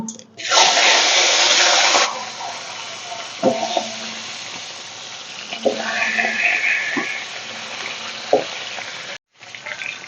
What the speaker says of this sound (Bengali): তেলটা গরম হয়ে গেছে এখন মাছের মাথাগুলো ভেজে নেব